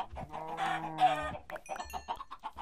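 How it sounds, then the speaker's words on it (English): Chickens in the Minecraft video game cluck in quick, close bursts with a rising squawk in the middle, game sounds alone with no one talking. "So I think we'll try and get rid of some of the chickens now."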